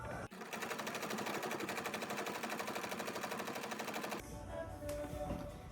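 A sewing machine stitches ruffles onto a garment in a rapid, steady mechanical rattle for about four seconds, then stops abruptly, leaving quieter room sounds.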